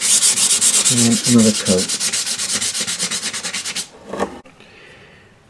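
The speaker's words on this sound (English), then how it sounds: "So I'm just going to give it a light rub down" Light hand sanding of painted MDF on a model railway platform: steady, rhythmic back-and-forth rubbing strokes, close and fairly loud, stopping near the end, when a brief voice speaks.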